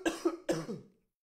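A person who is sick coughs close to a microphone, a quick burst of about three hoarse coughs, then silence.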